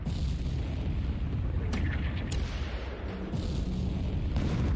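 Naval gunfire in the War Plan Orange video game comes as a dense, continuous wash of low booming and rumbling, with a few sharper bursts of distant fire layered over steady battle noise.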